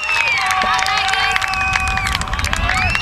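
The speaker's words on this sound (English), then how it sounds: "Lots of applause there." Crowd applause and cheering at an Australian football match after a goal, a dense burst of clapping and whistles filling the whole moment, with voices mixed in.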